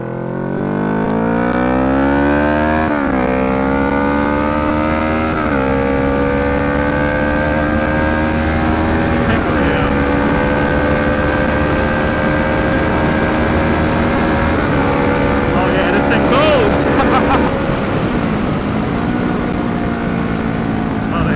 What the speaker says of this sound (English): I let go of the throttle and the engine is just like slowing the bike down instantaneously.